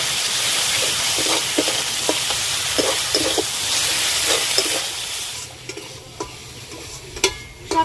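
Shrimp frying together with ginger-garlic paste in a pan, a steady loud sizzle with scraping stir strokes, the hiss easing off near the end into quieter crackles and a few sharp clicks.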